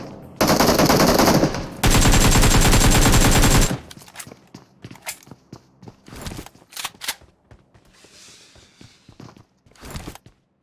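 PUBG Mobile gunfire: two loud, close bursts of rapid automatic shots, followed by scattered single shots, thuds and footsteps in a quieter stretch.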